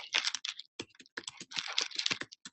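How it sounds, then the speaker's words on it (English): Rapid typing on a computer keyboard, a steady stream of close, crisp key clicks with brief pauses, heard alone. "I'm typing."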